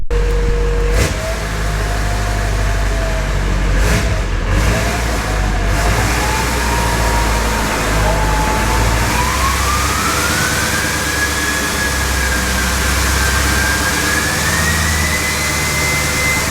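A loud Duramax engine in a K20 truck revs up, its pitch climbing steadily from a low rumble to a high roar, with a few clunks early on.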